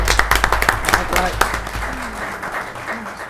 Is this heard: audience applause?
yes